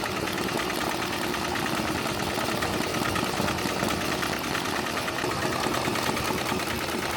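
An embroidery machine stitching around a fitted hat with 3D puff and flat designs, a loud, rapid, steady mechanical chatter of the needle running continuously and close up, with no voices.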